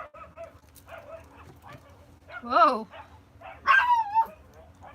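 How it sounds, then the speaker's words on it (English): Several dogs barking and yipping indoors, loud sharp bursts with a whimpering whine between them, while a person talks. "Guess there's a dog outside, so the dogs are gonna go crazy for a minute."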